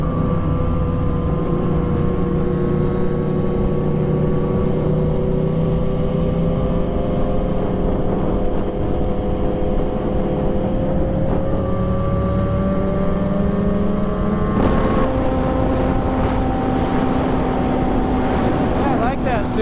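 A 2016 Aprilia Tuono Factory 1100 motorcycle is ridden, its engine droning steadily with pitch rising and dropping through gear shifts, loud and continuous over heavy wind rush, with a voice talking at times.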